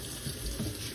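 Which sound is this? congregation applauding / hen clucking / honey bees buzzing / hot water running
hot water running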